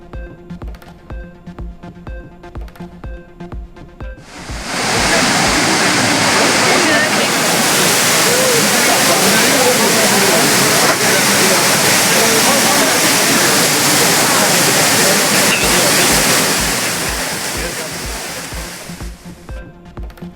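Courtallam falls in Tenkasi district, crowded with bathing tourists, pours in a loud, dense roar from about five seconds to seventeen seconds, framed by regular rhythmic musical beats before and after.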